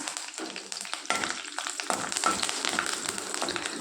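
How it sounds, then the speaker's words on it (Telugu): Cumin, mustard seeds, a dried red chilli and curry leaves spluttering in hot oil, a close, steady crackling sizzle with sharp pops and a brief stir, no voices. "అదే ఆయిల్లోన జీలకర్ర ఆవాలు ఒక ఎండుమిరపకాయ కరివేపాకు వేసుకొని చిట్టుపడలాలు ఇవ్వాలండి"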